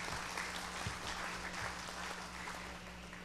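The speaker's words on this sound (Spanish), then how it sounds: "Damos la bienvenida con un fuerte aplauso a Nadia Esqué." Audience applause at a public-sector directors' annual meeting panel, a steady dense wash of clapping that holds throughout with no voices over it, easing off slightly toward the end.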